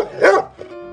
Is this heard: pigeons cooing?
no